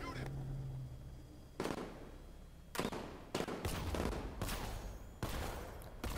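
Gunfire in the video game Batman: Arkham Knight comes as several sharp bursts and reports scattered over a few seconds, set against a low rumbling game background.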